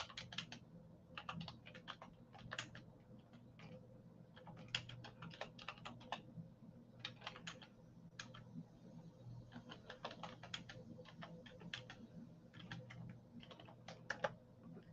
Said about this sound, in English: I gotta click on things if I'm gonna type